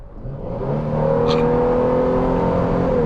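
A Toyota Hilux GR Sport pickup engine with power mode engaged, swelling into a steady, loud drone that climbs in pitch and holds, close and alone without talk.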